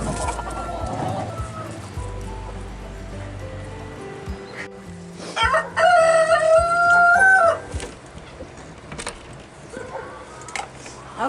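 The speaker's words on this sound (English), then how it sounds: "Yeah, too many roosters." A rooster crows loudly and close by in a long rising-and-falling call amid background clucking from a flock, with a person talking at times.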